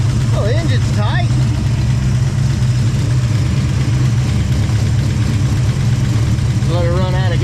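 An old engine runs at a steady low idle, a constant rumbling drone throughout, while people talk briefly over it near the start and end.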